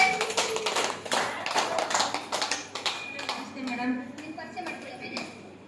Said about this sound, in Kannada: ಅಮ್ಮಗೋಸ್ಕರ ಜೋರಾಗಿ ಚಪ್ಪಾಳೆ